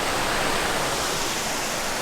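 Pistyll Rhaeadr waterfall in Wales roars close up from its base, a dense, steady wash of falling water filling the whole moment with no voices.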